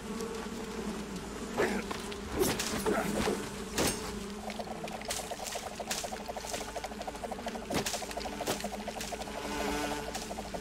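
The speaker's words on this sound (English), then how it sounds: "bees!" Buzzing swarm of bees in the Metal Gear Solid 3: Snake Eater video game, a steady insect drone with scattered sharp clicks and game effects over it, moderately loud throughout.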